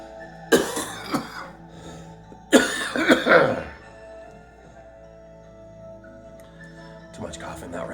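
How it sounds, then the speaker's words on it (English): Harsh, repeated coughing in two loud bursts during a breathing exercise, each a cluster of several coughs close to the microphone, with quieter breathing between and a faint further cough at the end. "Too much coughing that round."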